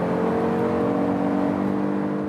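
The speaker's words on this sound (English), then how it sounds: "now probably the combustion engine will go on" Suzuki Across SUV with its combustion engine starting up during a hard acceleration from about 100 km/h, giving a steady, loud engine drone and whir with a strong low hum throughout, without any talk.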